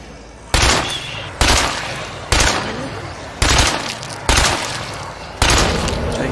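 Video game gunfire aimed at headshots: six loud, sharp shots fired at roughly one-second intervals, each leaving a decaying ringing tail before the next.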